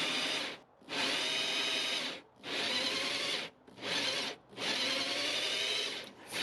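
A 2.5-inch hole saw on a drill cuts through the fiberglass hull of a sailboat in four loud, rasping bursts separated by short pauses, close and steady during each cut, with no talking.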